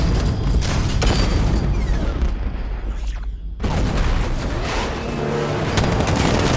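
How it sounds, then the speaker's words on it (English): Heavy booming 60mm cannon fire from the Batmobile in Batman: Arkham Knight rumbles continuously, with a brief drop in the barrage midway before the blasts resume at full loudness. "60mm cannon operational."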